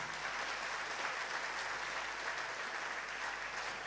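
Audience applause at a Hindu religious discourse, a steady wash of many hands clapping that holds evenly from start to finish, with no voice over it.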